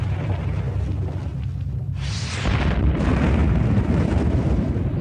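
A deep rumbling explosion of the early Earth roars, then a second, harsher blast bursts in and keeps thundering loudly to the end.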